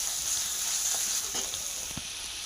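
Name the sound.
water added to sizzling fried spice paste for fish curry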